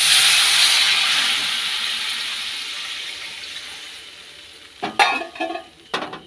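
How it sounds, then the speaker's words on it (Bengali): Hot water poured into a sizzling, oil-released spice masala bursts into a loud steaming hiss that slowly fades, followed by a few sharp clatters of stirring near the end. "মশলাটা কষানো হয়ে গেছে, তেল ছেড়ে দিয়েছে। এখন গরম জল দিয়ে দিচ্ছি।"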